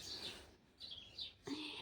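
Sparrows chirping in short bright bursts, a few quick tweets spaced apart against a quiet village background.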